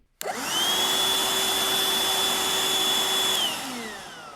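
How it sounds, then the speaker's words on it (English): A vacuum cleaner switches on abruptly, spins up to a steady whining roar with a high tonal hum, holds for about three seconds, then begins winding down as the pitch falls, heard close and alone. "robot has his girlfriend, the vacuum cleaner."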